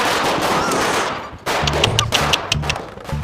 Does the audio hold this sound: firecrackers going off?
yes